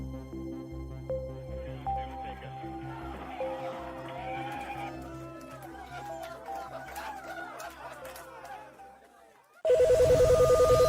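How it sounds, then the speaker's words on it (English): Background music and chatter fade, then a loud electronic telephone ring blares in rapid repeated pulses near the end. "the NASA hotline is ringing off the hook"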